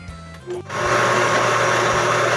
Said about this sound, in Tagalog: Ibibit natin to hanggang sa maging fluffy na siya